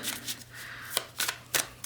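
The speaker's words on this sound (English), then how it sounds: "We're gonna shuffle a little, even though those cards are already pre-shuffled." Tarot cards being shuffled by hand, a series of crisp riffling bursts with short pauses between them, close and fairly loud.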